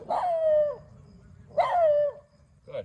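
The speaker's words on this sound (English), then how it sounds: "He's gonna bark at a group of people." A beagle outdoors gives two drawn-out, whining barks about a second and a half apart, close and fairly loud, with the start of a third at the end.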